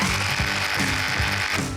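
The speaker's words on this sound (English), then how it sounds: "but the drill is more fun." A power drill runs during a home makeover, its motor whirring steadily beneath a loud, regular ratcheting clatter that repeats about every half second, heard close and alone.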